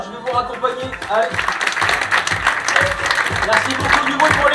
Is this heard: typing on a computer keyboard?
no